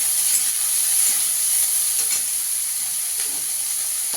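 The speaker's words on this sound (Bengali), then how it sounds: "এখানে আমি চিংড়ি মাছটাও দিয়ে দেবো, চিংড়ি মাছটাকেও ভেজে নেবো।" Shrimp seasoned with salt and turmeric sizzle and fry in a hot pan, a steady bright crackle with faint stirring taps, close and continuous, with no voice.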